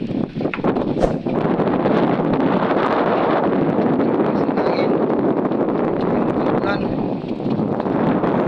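Strong wind buffets the microphone in a constant roaring rush, with occasional gusts and faint rustling beneath, during windy, rainy weather in Placer, Surigao del Norte, Philippines.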